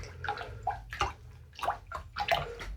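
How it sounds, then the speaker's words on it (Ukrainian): Yogurt starter being stirred into milk in a pot, giving soft rhythmic sloshing and swirling liquid sounds in several close, quiet strokes. "Беремо, розсипаємо закваску. і перемішуємо."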